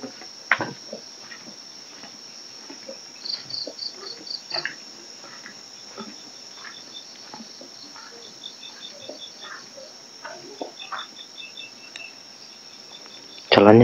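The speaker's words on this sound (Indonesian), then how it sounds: "Hanya ada suara jangkrik." Crickets chirp steadily through a quiet night in a village, a continuous high shrill trill with faint tapping and scattered small noises, ending in a sudden loud burst.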